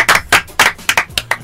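Six sharp hand claps in an even rhythm, close and loud, during a live Show Beats 2014 hip-hop web show, each a bright broadband burst with short pauses between.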